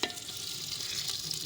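About 5 kilos of mutton frying in a clay pot for Chinioti kunna gosht produce a brief, steady close sizzle with a sharp clatter at the start and another light knock midway.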